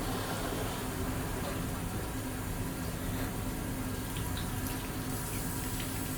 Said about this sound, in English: a water bath means that you're just running the water into there